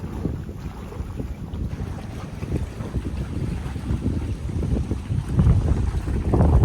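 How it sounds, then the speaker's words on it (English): A low, steady roar of far-off surf breaking on a reef off Raiatea, French Polynesia, rolls under gusting wind and microphone buffeting, with no voices. "The distant thunder of the reef way out there"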